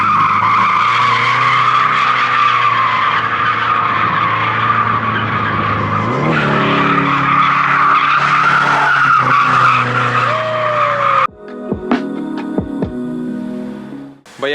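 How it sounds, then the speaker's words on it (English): Nissan 240SX fitted with an HKS Hi Power exhaust and ISR header, roaring loudly under load for about eleven seconds and rising in pitch, with a tire-squeal chirp near the end, then a few short, clattering bursts. "I'm gonna put a little teaser for the next video right now so you guys could kind of hear the exhaust while it sounds under load."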